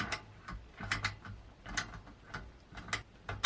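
A Laser mini ratchet tightening a hex bolt, giving quick close clicking bursts of the pawl in short uneven strokes, fairly quiet with no talk.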